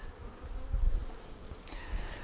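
Honey bees buzz in a steady low drone around an open hive, a continuous murmur with no voices.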